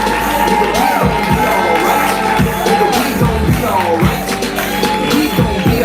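A live audience at a poetry open mic cheers loudly for a poet, a continuous roar of whoops and shouts over rhythmic clapping and stomping thumps, with voices calling out throughout.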